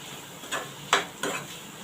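A spoon stirs red chili powder into a pan of snake gourd vegetable dish, giving three short scraping clinks against the pan, close and moderately loud, with no one speaking.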